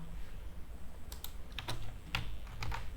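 Keys clacking on a computer keyboard as code is typed, in short clustered bursts of taps with brief pauses between, close and fairly quiet over a low background hum.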